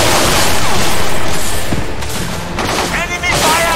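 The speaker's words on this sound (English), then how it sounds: "Trapped by enemy fire." Dense, loud gunfire and booming explosions in the Xbox 360 combat game Battlefield 2: Modern Combat, rolling continuously and heavily layered, with shouted radio-style voices mixed in.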